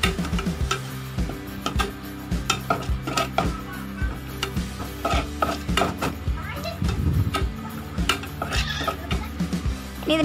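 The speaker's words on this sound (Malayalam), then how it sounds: "ആദ്യമേ തന്നെ മഞ്ഞൾപ്പൊടിയും ചുവന്ന മുളകും കൂടി ചേർത്ത് കൊടുത്ത് നന്നായിട്ടൊന്ന് ഇളക്കി കൊടുക്കുക." Turmeric powder and red chili are stirred into a tapioca dish, with a spoon scraping and knocking against the pan in a steady rhythm of close clinks and taps that runs the whole time alongside a low background hum.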